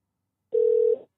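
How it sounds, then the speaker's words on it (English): A telephone line gives a single steady ringback tone of about half a second, clear and alone after a moment of silence. "Wait, what if I call it again from the same phone?"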